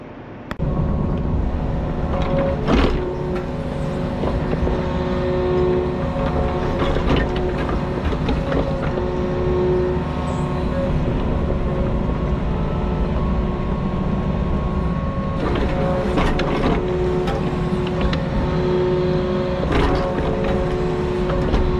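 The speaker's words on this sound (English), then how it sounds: "So sprinkle it out with the skid steer, flatten it out with the mini." Skid steer spreading mulch along a muddy walking trail: a steady, loud diesel engine drone with humming harmonics runs throughout, with occasional clanks and revving surges.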